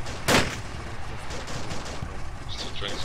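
Gunfire in a military video game mission, with one sharp close shot standing out, followed by scattered quieter shots and battlefield noise.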